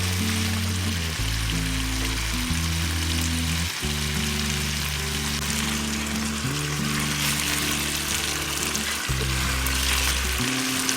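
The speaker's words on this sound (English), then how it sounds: "Keep flipping at regular intervals to ensure even cooking." Baharat-spiced chicken and batata harra potatoes frying in a pan and being turned now and then: a loud, continuous sizzle with occasional stirring movement, under steady background music.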